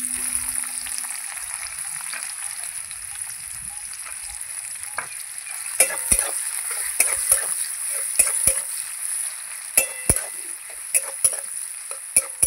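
Onions fry in hot oil tempered with black cumin seeds, a steady bright sizzle broken by sharp clicks and scrapes of stirring that grow busier in the second half, with no voices.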